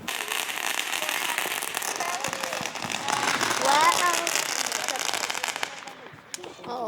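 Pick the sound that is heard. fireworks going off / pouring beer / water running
fireworks going off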